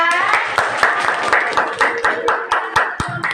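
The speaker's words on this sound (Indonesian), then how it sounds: "Kita kasih tepuk tangan dulu ya" Classroom applause for a group of sixth-grade students, a small group clapping in fairly distinct, uneven claps with a few louder single claps near the end and faint voices mixed in.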